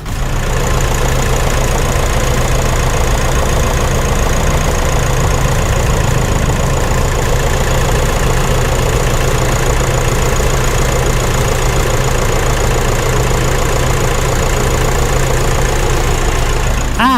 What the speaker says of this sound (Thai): เดี๋ยวให้ฟังเสียงเครื่องยนต์กันหน่อย ว่าจะแน่นแค่ไหน